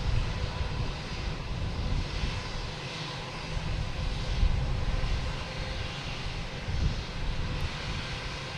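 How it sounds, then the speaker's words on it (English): A JetBlue Airbus A220 lands at Boston Logan after a flight from Dallas-Fort Worth, a steady moderate jet rumble heard from a distance with no voices over it. "we got a JetBlue coming in from Dallas-Fort Worth, an A220"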